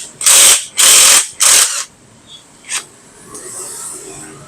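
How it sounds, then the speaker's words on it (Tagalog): Ratchet socket wrench with a 14 mm socket loosening a bolt on an ADV160 motorcycle during ball race installation, three loud, close bursts of rapid clicking followed by a few fainter clicks and handling noises. "Gamit tayo ng number 14 na socket, tapos number 17 na open range para matanggal natin yan."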